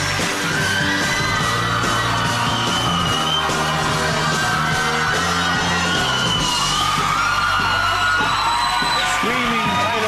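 Screaming and whooping fans in a TV studio audience greeting a guest on a chat show, a loud continuous roar of yells and cheers throughout with music under it.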